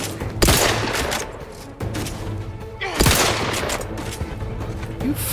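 Gunfire from the video game The Outer Worlds 2: loud, sharp blasts in a rapid volley, with two big bursts a few seconds apart and continuous shooting and clatter between them, no talk.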